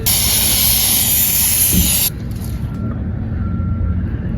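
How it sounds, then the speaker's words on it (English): Aerosol can of non-chlorinated carbon and choke cleaner spraying in one loud, steady hiss for about two seconds, then cutting off, leaving quiet workshop background while repairing a cracked engine block. "Non-chlorinated carbon choke cleaner, so it'll be all right."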